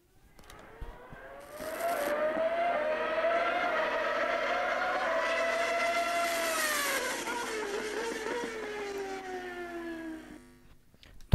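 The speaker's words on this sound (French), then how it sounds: "le son de la voiture lorsqu'elle s'approche est aigu et il devient plus grave lorsqu'elle s'éloigne" A car passing by with a clear Doppler shift: engine tone rises as it approaches, holds loud while passing close, then drops lower in pitch and fades away as it recedes.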